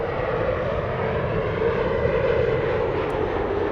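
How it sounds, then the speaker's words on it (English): A Boeing 787 Dreamliner passes low overhead near Los Angeles airport, its engines giving a loud, steady, broadband roar that holds constant and close throughout, with no talking. "This is only possible because that Dreamliner is flying so low to the ground right now."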